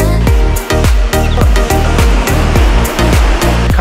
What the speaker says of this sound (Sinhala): හරි, අපි දැන් ඉන්නේ තුන්වෙනි ඇල්ල උඩලු.